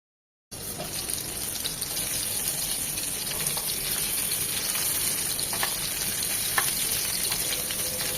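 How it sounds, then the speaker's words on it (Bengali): Beef mince seekh kebabs frying in a pan over medium heat, a steady close hiss and sizzle with faint crackles throughout, no talking. "এপাশ ওপাশ করে সব দিক এভাবে আস্তে আস্তে ভেজে নেব"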